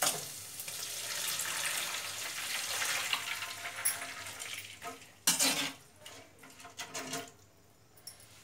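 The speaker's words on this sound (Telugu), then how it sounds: "వాటర్ వేసుకుందాం" Water poured into a hot pan of tempered curry leaves, mustard seeds, cashews and red chillies gives a long hiss that fades, followed by clattering spoon stirs and pan knocks close by.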